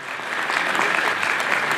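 A church congregation claps together in thanks during Sunday Mass, a dense, steady burst of applause filling the hall without pause.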